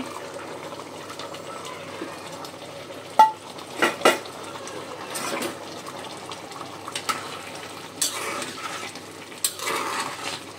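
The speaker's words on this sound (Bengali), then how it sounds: "ভেজে রাখা ডিমটা দিয়ে দিচ্ছি।" Fried egg stirred into vegetable rice made with frozen vegetables in a pan: soft scraping and stirring with a few sharper utensil clinks against the pan over a low frying background, with no talk.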